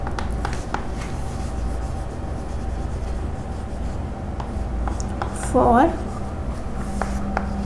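A pen writes a journal entry by hand, a faint, steady scratching heard under continuous spoken explanation.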